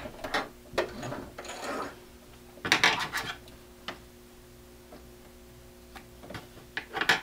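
A home sewing machine stitches back across a seam on a fabric screen cleaner, making short bursts of rapid mechanical clatter separated by pauses, close and moderately loud, with a faint steady motor hum between runs.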